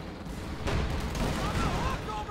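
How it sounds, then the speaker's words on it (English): Tank gun firing at a Panzer IV in the Company of Heroes 2 strategy game, a heavy boom with rumbling battlefield noise and layered explosions around it. "There we go, another shot on the Panzer IV"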